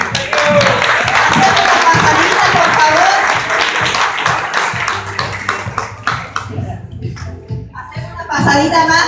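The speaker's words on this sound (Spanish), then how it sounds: "Para las cinco más, un aplauso de vuelta" A church audience at a Mother's Day program gives loud, sustained applause that gradually thins into scattered claps, with voices and crowd noise underneath.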